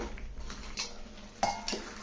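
A spoon scrapes and taps against a metal pan in a few quiet strokes while stirring gongura prawn curry, with one sharper clink near the end.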